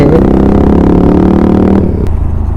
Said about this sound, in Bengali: তনুর বাইক থেকে এত আওয়াজ হচ্ছে,